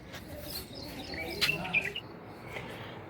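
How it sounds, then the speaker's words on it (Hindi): A small bird chirps indoors while fighting its reflection in a glass pane, short sharp calls scattered over a few seconds, fairly faint against a quiet room. "चिड़िया लड़ रही है शीशे के साथ।"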